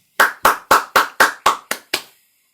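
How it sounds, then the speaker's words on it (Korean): A church congregation at Sunday worship claps in unison, eight sharp, evenly spaced claps in a steady rhythm, loud and close, with the last two slightly softer before silence. "하나님께 영광의 박수를 올리겠습니다"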